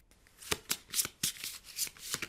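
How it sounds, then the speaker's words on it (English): A worn pack of tarot cards is shuffled by hand in about eight quick, crisp riffling bursts at an uneven rhythm, close and fairly quiet, with no voices. "shuffle them really well with your left hand"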